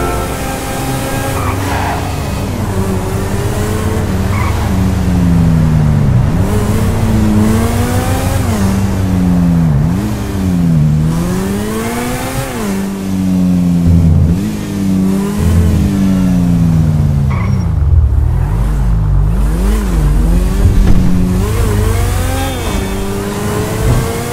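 Cars race in Grand Theft Auto on PS4, engines loudly revving up and down in repeated sweeping surges with occasional tire skids, sustained and close throughout without talk.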